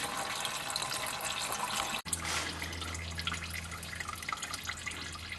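Coolant from a 1976 Corvette being dumped out and draining, a continuous watery splashing and trickling with a sharp knock near the start, followed by a low steady hum beneath the running liquid.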